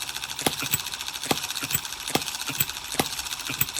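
Several small hit-and-miss model engines, including an M17, run together with a steady tick-tick-tick of regular sharp firing clicks about every 0.4 seconds over a faint mechanical background, close by and moderately loud.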